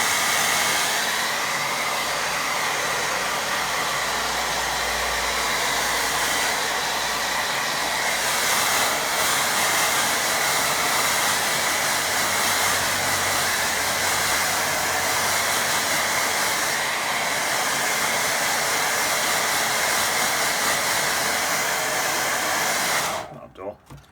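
Hair dryer blowing steadily on a watercolour painting of distant pine trees, a loud continuous whooshing hiss that runs unbroken for the whole stretch before cutting off abruptly at the end.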